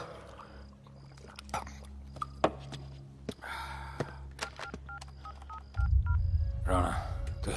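Series of short electronic dial tones as a phone number is keyed in, sparse clicks around them, then a loud rushing noise takes over near the end.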